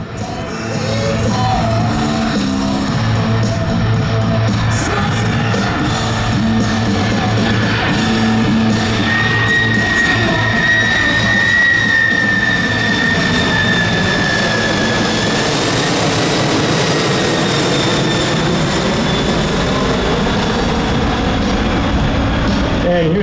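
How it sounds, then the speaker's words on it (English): A C-5M Super Galaxy jet makes a slow pass at an airshow in Dover, Delaware, a loud sustained engine roar with a whining tone, under an announcer's voice and crowd noise. "Here you go, ladies and gentlemen, slow flight, the C5M Super Galaxy."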